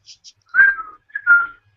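A person whistling two short, clear, tuneful notes, each rising and falling, preceded by a couple of tiny high chirps; loud and close with no talk.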